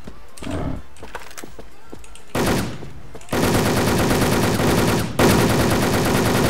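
Automatic gunfire in a video game, a weapon firing on its own in loud rapid bursts that grow denser and continuous, with scattered game sounds before the sustained shooting.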